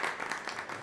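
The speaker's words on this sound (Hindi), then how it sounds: "ग्वेन के लिए जोरदार तालियां बजाइए" Applause for Gwen in a staged drama scene, a short dense burst of steady clapping, fairly loud and even throughout with no voices over it.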